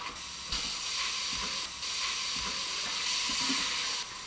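Onion sautéing in an Instant Pot for Korean ground beef bulgogi, a steady loud hiss and sizzle that carries on throughout with a few soft stirring knocks and no voices.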